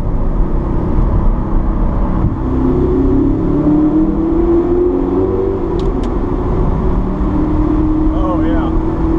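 A supercharged Audi R8 with VF Engineering supercharger accelerates through a tunnel after a downshift, windows cracked, giving a deep, steady engine growl that rises in pitch, loud and close throughout with a brief talking voice over it.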